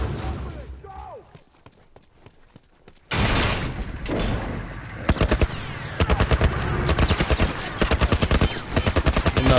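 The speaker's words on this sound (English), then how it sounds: "shooting the thing" Gunfire in The Last of Us (Grounded Plus difficulty): sparse shots at first, then loud, rapid repeated bursts crackle close by, with a voice heard early.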